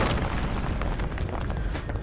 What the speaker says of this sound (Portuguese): Caraca, bomba na trincheira.